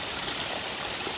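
Water flows steadily at the source of a forest stream, a dense, even rushing and babbling that stays close and constant with no pauses or talking.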